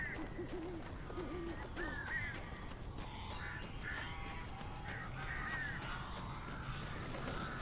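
Crows caw and screech in the Alan Wake video game, several harsh calls repeating over a steady background rumble at moderate, even loudness.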